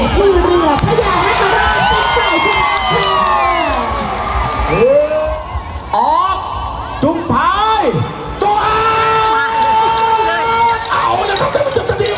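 A loud crowd roars, cheers and whoops at the final of a 40-oarsman long boat race in Thailand, with shouting voices rising and falling over continuous dense crowd noise close by.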